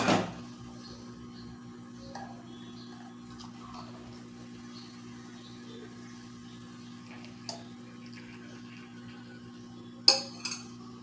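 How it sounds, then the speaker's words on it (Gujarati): Tea is strained into a cup in a quiet kitchen. A faint steady hum runs underneath, with sparse metallic clinks of dishes and utensils and a sharper clatter near the end. "હવે ગેસ બંધ કરી લેશું અને ચા છે તે આપણા કપમાં છે તે આપણે ગાળી લઈશું"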